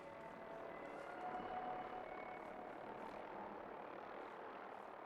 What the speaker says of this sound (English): Vertibird overhead now again, sounds like.